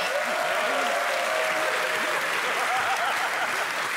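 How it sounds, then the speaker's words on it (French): Television studio audience applauding at a French talk show, dense continuous clapping close and loud, with a faint voice or tone running underneath. "l'applaudissement pour Jean-Luc"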